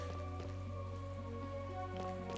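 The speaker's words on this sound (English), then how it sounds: "it clearly hasn't gotten any less rainy around here" Steady rain falls in the town of Torment in Chained Echoes, a soft constant patter beneath a looping game melody with sustained tones, no voices.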